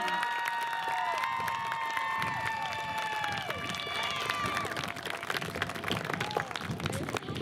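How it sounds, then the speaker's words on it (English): A crowd at a class of 2021 senior graduation ceremony claps and cheers in a continuous roar, mixed with sustained tonal music or voices. "one last big round of applause for all the graduates of the class of 2021"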